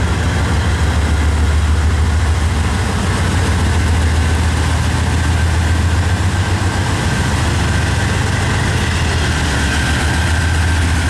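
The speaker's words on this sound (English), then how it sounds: "Those are some old engines there." Old railroad locomotive engines idle on the line, a loud, constant low diesel rumble with a steady throb that holds unchanged throughout, close by and with no voices.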